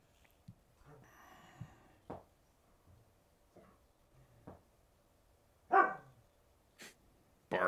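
A pet cat gives a few short, snorting bark-like calls, close and fairly quiet, separated by soft breaths and small rustles.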